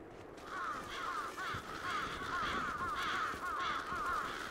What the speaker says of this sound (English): Those crows are there all the time.